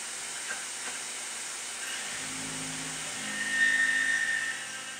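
CNC milling on a slotting toolpath into pre-drilled holes produces a steady high whine and hiss, with a lower, more even cutting tone that sets in partway and swells slightly near the end.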